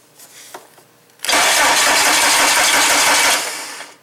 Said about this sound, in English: Instead of cranking it over with the key, I'm going to use my remote starter so it doesn't spin too fast.